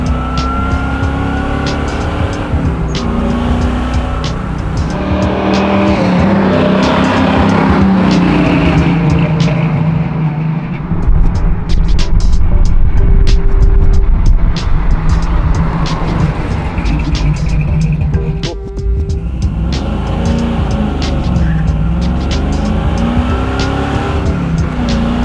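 Restored 1970 Chevy Camaro with a 350 V8, loud and close, idling with a rough burble and then revved hard several times, the engine note rising and falling in surges between brief lulls.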